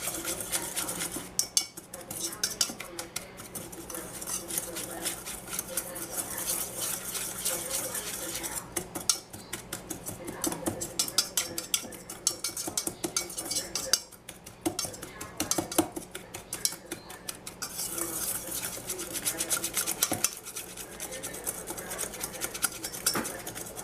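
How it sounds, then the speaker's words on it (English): A spoon stirring a brisket spice rub of ground mustard and chili powder in a bowl, with continuous scraping and clinking of metal on the dish, faint and close, lasting throughout. "Now he's got to mix all that up together."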